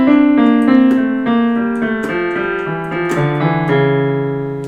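Sustained piano notes held with the fingers and no pedal, a slow sequence of about a dozen tones stepping downward, each ringing clearly until the next is struck, played alone.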